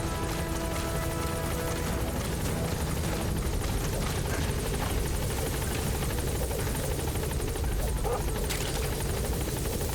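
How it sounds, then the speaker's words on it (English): A support helicopter arrives in the Metal Gear Solid video game, its rotor thumping and engine roaring steadily and loud throughout, a dense, continuous wash of noise. "Support helicopter has arrived."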